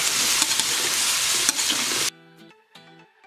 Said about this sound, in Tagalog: Haluin lang natin siya ng mabuti.